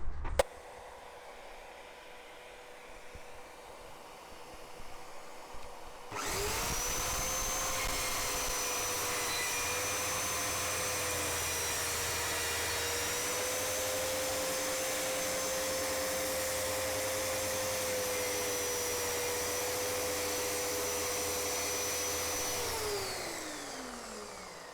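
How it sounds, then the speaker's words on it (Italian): A vacuum cleaner hooked to a Parkside PTSS 1200 C2 plunge saw starts up after a few quiet seconds, then roars steadily with a high whine while wood is cut, winding down at the end. "e collego anche l'aspirapolvere per vedere la differenza"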